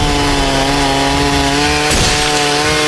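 A chainsaw in a slasher horror film drones loudly and continuously, with a rough harsh burst partway through as it seems to bite into something.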